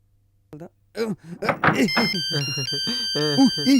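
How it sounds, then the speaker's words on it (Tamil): A phone rings with an incoming call, its steady electronic tones starting partway through and sounding under several people talking loudly indoors. "ஃபோன் கால்டா."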